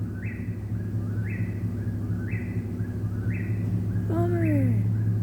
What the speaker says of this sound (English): I stopped to catch the whippoorwill a little bit